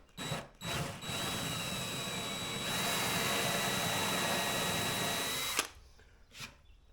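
A power drill whirs steadily for several seconds after a few short bursts, then winds down, followed by a brief faint spin-up; drilling 5/16 holes through epoxy in a boat's self-steering gear rudder.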